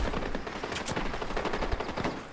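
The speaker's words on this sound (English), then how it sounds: "there appear to be more shots up ahead" Rapid automatic gunfire rattles in Fortnite, a loud, dense burst of shots fired in quick succession for a couple of seconds, with no voices over it.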